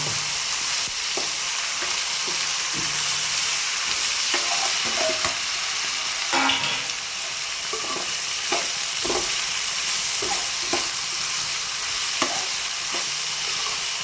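Onions and coconut sautéing with ginger-garlic paste for chicken curry, a steady loud sizzle with intermittent spoon scrapes and stirring knocks, close up and continuous.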